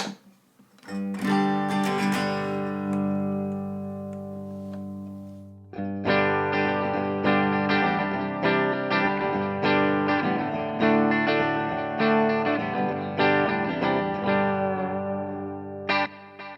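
Gretsch hollowbody electric guitar on the bridge pickup with overdrive, a strummed chord ringing out and then a run of loud, distorted chords and notes played alone.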